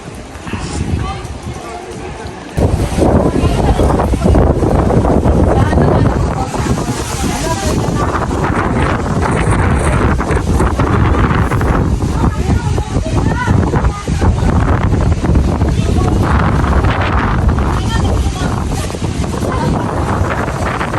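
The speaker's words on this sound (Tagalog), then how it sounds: "Lakas ng hangin." Strong wind roars and buffets the microphone continuously, loud and gusty, at an Orthodox church in North Lebanon, after a brief quieter opening; faint voices are buried beneath it.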